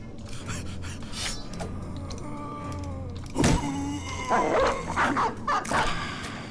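Dog barking in a video game monster-battle scene, yips and barks cutting through a dense game soundscape with rising tones and effects, growing busier and louder in the second half.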